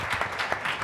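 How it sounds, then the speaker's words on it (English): Audience applause for panelists at the close of a tech entrepreneurship panel discussion, a short steady wash of clapping from a crowd at moderate level. "so if we could give them a round of applause"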